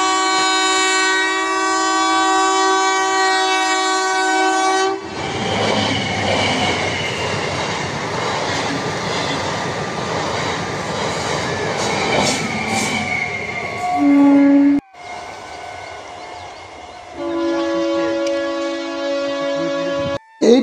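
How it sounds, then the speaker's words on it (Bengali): A passenger train running from Bankura to Masagram rolls past a village railway gate, a loud horn blast sounding before the rumble of wheels and wagons, then a second horn near the end. "আর আমরা না যেতে করতে চলে এলো বাঁকুড়া থেকে মুশাগ্রাম গামী ট্রেন।"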